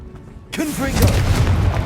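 A spell explosion from the Hogwarts Legacy video game bursts out abruptly as a deep boom with a rumbling tail. It is loud and close and holds steady to the end.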